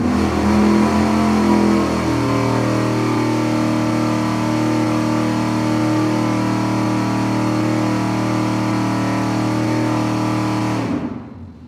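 A V8 engine fitted with aluminum heads runs on a dyno at a steady 4,700 RPM, a loud sustained droning roar that holds constant before cutting off abruptly at the end.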